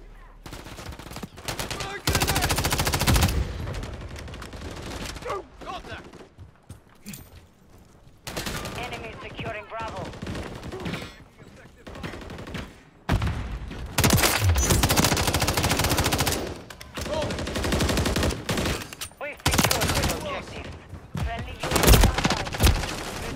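Gunfire in the video game Call of Duty: Modern Warfare III on the map Rust, with repeated loud automatic bursts and single shots coming in clusters, close and harsh, with someone talking over parts of it.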